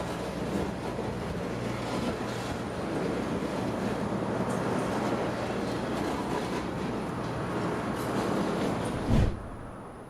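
A Tropicana juice freight train rumbles steadily, a broad continuous roar with wind noise, and a brief thump near the end as freight cuts are assembled.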